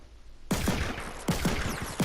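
Revolver gunshots in the Fortnite video game: three sharp, loud shots spaced roughly 0.75 seconds apart, each a sudden crack with a ringing tail, over low game background noise.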